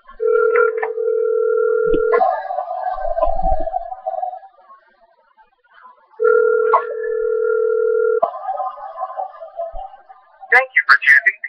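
Telephone dial tone after a call to Pizza Hut is hung up, a steady two-pitch tone heard in two separate stretches, with faint speech between and crackly noise at the end.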